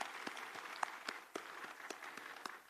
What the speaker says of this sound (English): So please applaud all the students as well.